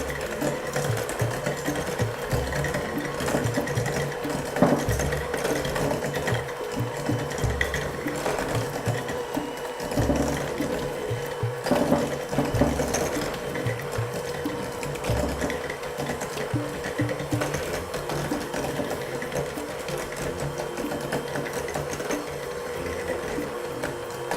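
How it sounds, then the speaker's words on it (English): Electric mixer on medium speed creaming butter and brown sugar for banana bread, a steady whirring motor drone with rhythmic beater chatter running continuously, close and fairly loud with no talk. "you need to cream the two ingredients for about 3 minutes. And you'll wanna do that on a medium speed."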